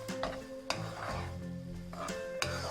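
A spoon stirs milk powder into carrot halwa (gajar halwa) in a pan, giving a few soft scrapes and light knocks against the pan over steady tonal music, with no voices.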